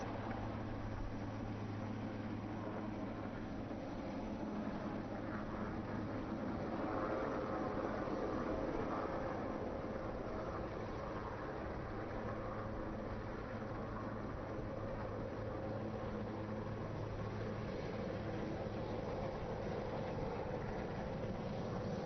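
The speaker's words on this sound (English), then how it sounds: "you can now see the Sea King 42 Bravo hovering close to the surface" A Sea King 42 Bravo naval helicopter hovers low over the sea surface while dunking its sonar during a navy display, giving a loud, steady rotor and engine drone with a low hum underneath and no voices.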